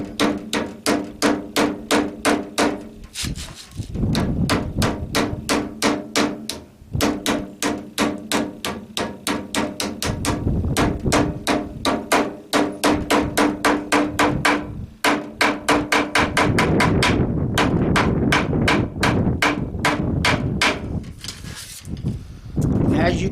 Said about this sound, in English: This is where I'll use a hammer.